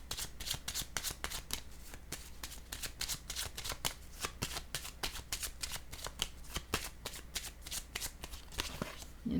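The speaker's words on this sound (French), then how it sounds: "Je vais déposer une carte en regardant celle du mur" Playing cards are shuffled and laid down in a quick, even run of crisp riffling snaps and flicks, close up and quiet, with no voices.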